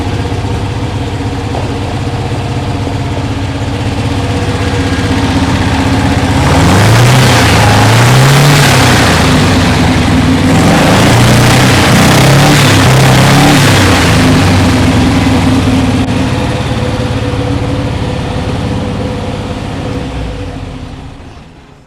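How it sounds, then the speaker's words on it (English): A 1968 Porsche 912 with worn-out carburetors runs and revs, rough and gurgly, with loud popping backfires under load in the middle stretch before settling back to a steady idle. "Backfire under load."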